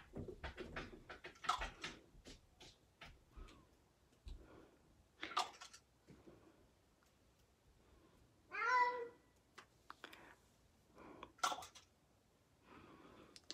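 A house cat meowing indoors, one clear drawn-out meow near the middle among scattered soft rustles, pats and handling noises, fairly quiet and close.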